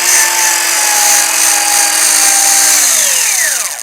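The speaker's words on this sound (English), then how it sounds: "My wool pad cleaning spur." Polisher with a wool pad being cleaned by a spur, a loud steady high whine with a rough scraping hiss that winds down in pitch as the tool slows near the end.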